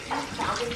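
Tap water runs steadily as hands are washed under it, a close, continuous splashing hiss without talk.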